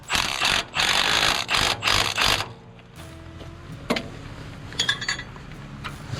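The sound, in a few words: ratchet torquing down a nut on a bolt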